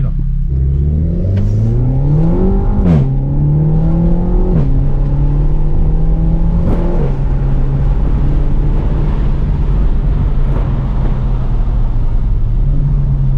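A remapped Renault Megane 4 RS Trophy with upgraded parts accelerates hard from inside the cabin, its engine droning loud and constant while revs climb through several gears, with sharp shift points breaking each pull.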